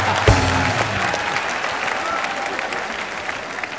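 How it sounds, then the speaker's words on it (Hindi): Audience applause for a comedian on a Hindi family comedy show, a sharp opening burst followed by steady clapping that holds at an even level, with a brief voice near the start. "एक बार जोरदार तालियां विनय के लिए एक बार"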